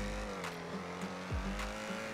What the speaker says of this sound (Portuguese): Ainda bem que eu acelerei, tava com o carro tunado.